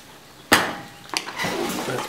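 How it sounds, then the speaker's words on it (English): A spoon stirs macaroni and a stick of butter in a metal pot: one sharp clank against the side, then a second knock and a scraping, sloshing stir close by. "Stir it up."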